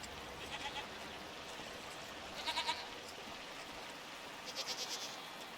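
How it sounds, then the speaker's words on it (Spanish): Goats bleat in the video game SEASON: A Letter to the Future, two short clustered bursts of several quick calls rising over a steady hiss of ambient game noise, moderately close and without talk. "Suena un montón de cabras."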